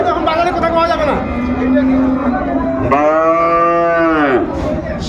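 A Sahiwal bull at a cattle market in Dinajpur gives long, loud, drawn-out moos close by, one after another, with market chatter and talk in the background.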